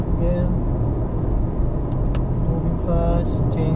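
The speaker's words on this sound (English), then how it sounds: "There's a few cars behind me again." Cars passing close on a highway, a continuous loud road rumble and engine roar filling the whole stretch, with a few faint higher tones over it.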